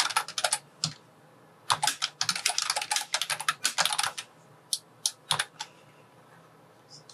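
Someone types a comment on a computer keyboard in quick bursts of clicking keystrokes, with brief pauses between runs and a few isolated taps near the end, close and clear with no talk.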